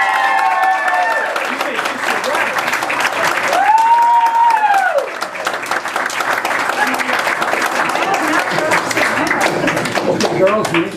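Wedding guests break into sustained applause and cheering for a newly pronounced husband and wife, a dense crowd of clapping with whoops and a brief shout rising midway, continuous and loud throughout.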